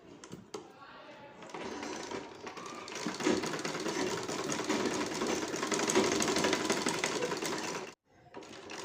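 A sewing machine stitches a folded bra band in one continuous run of fast, even mechanical whirring that lasts about eight seconds, then stops abruptly and briefly starts again.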